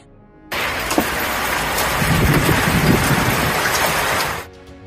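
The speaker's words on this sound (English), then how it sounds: "The most dangerous storm Jasper, December 14th, hit Australia." Heavy rain from Cyclone Jasper lashing Queensland, Australia, comes as a loud, steady roaring wash that starts abruptly, holds for about four seconds with slight surges, then cuts off, with no voices.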